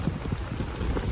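Steady rain falls outdoors during a typhoon, a dense close wash of drops with low rumbling gusts underneath, continuous and fairly loud for the whole moment with no voices.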